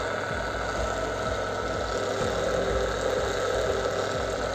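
A homemade metal grinding and polishing machine's electric motor runs steadily, a close continuous hum with a faint regular pulsing beat and no talk.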